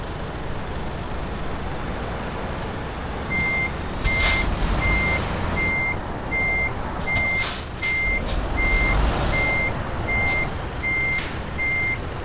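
Steady, evenly spaced reversing beeps from a truck in the Euro Truck Simulator 2 driving game begin after a few seconds and repeat over a constant low engine rumble, with a couple of short hissing bursts.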